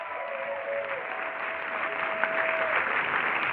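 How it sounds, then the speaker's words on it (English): An audience at a multicultural leadership day opening session applauds the director, a dense, continuous wash of clapping at moderate distance, with a faint tonal hum running beneath. "can we give her another round of applause?"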